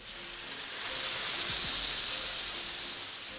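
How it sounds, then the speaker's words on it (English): Steady, bright hiss of dough sizzling on a smoking-hot griddle pan, loud and continuous with no talking. "Once the griddle pan is smoking, add a piece of dough."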